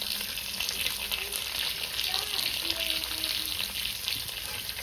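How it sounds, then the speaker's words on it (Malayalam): Onions and curry leaves fry in a pan with a loud, dense, unbroken crackling sizzle, close up, faint voice in the background. "കരിവേപ്പിലയും സവാളയും ഇട്ട് കൊടുക്കാം."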